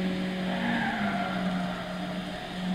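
1965 Nissan Silvia 1600 in Gran Turismo 6, about 90 horsepower through a 4-speed manual, its engine droning steadily down a straight with a tire-squeal tone layered over the hum.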